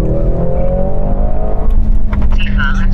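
Inside a Mercedes C63 S E Performance under hard acceleration, the engine note climbs steadily in pitch and stays loud and close, while people talk over it.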